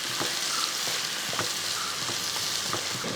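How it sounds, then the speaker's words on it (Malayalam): Sliced onions fry in a pan for a chicken curry, a close, continuous sizzle broken by regular scraping stirs roughly every half second. "സവോള ഇട്ടതിന് ശേഷം എല്ലാം കൂടെ കൂട്ടി ഒന്ന് ഇളക്കി കൊടുക്കും"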